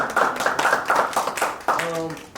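A small gathering claps in short, pulsing bursts, fairly close and steady, and a voice cuts in briefly near the end.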